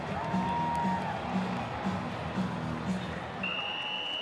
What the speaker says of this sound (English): Come on, we're going to cheer him on.